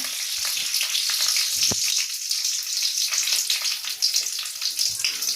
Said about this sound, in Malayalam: അപ്പം കടുകൊന്ന് പൊട്ടിക്കിട്ടണം